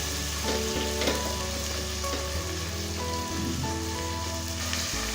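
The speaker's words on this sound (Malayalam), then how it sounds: "തക്കാളി നന്നായിട്ടൊന്ന് കുക്കായി വരട്ടെ" Chopped tomatoes frying in a pan, giving a continuous bright sizzle and crackle with a few stirring scrapes and knocks, close and steady with no voices.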